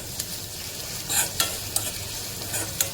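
Chopped onion with salt frying in a pan for a quick fasting-day meal: a quiet, steady sizzle broken by a few sharp scrapes and clinks of the spoon stirring the pan, with no voices.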